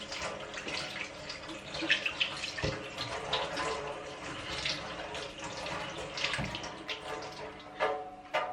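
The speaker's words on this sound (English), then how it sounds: "then I need to wash my hands again" Tap water runs steadily into a sink for hand washing in a home kitchen during oat milk making, a continuous splashing flow with small surges and clatters, close and fairly loud, no talking.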